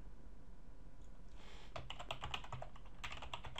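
Computer keyboard typing Java code: quiet at first, then a brisk run of close key clicks with short pauses, a second burst near the end, faint and without speech.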